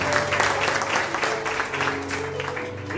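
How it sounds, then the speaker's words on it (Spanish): Church congregation clapping during a Spanish-language service, a dense continuous round of applause with a sustained organ or keyboard tone underneath and faint voices mixed in. "Un aplauso al Señor."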